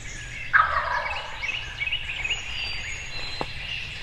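A wild turkey gobbles once during a Mississippi hunt, a short rattling gobble at moderate distance, followed by quiet outdoor ambience with insects and a faint distant call.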